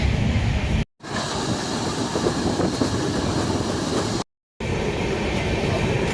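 Steady rumble and rattle of a train to Puri heard from inside a carriage, continuous and loud with faint clickety-clack, broken by two brief silent gaps.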